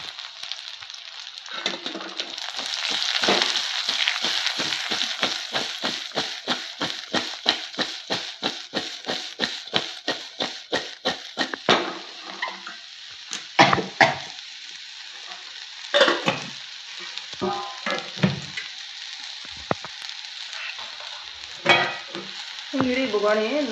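Brinjal (eggplant) frying in a pan for Karnataka-style palya, a steady sizzle with a rapid run of regular scraping stir strokes that slows into scattered, irregular scrapes, close and clear with no talk.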